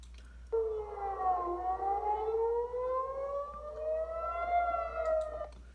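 A civil defense siren sounds a rocket warning in Tel Aviv, its rising and falling wail carrying from a distance at moderate volume and continuing steadily throughout, with no talk.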